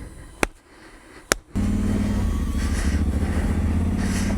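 Off-road motorcycle starting to move after two sharp knocks, its engine then droning steadily and fairly loud with a rough, pulsing rumble.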